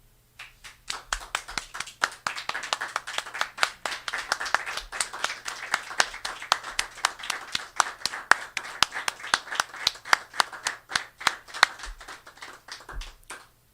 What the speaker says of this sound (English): we have this tendency to rise to our feet and give the artist a standing ovation